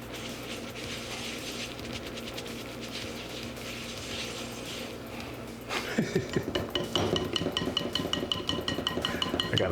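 A stand mixer whips ube soufflé batter with extra ube powder, first as a muted whirring rattle, then a louder, busier clatter of gears and beater knocking against the bowl.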